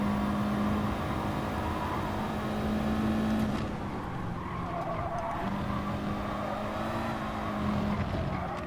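Racing video game car spinning its wheels, a loud, sustained tire squeal over a roaring engine, with the squeal pitch wavering and fading in and out across several seconds.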